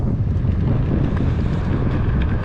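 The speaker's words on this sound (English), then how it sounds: "Right now it's super, super windy." Strong wind buffets the microphone at an airport used for paramotor kiting practice, a steady loud low roar with constant gusty rumble and no letup throughout.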